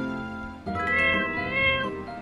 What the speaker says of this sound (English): We can make friends with Pinky the cat.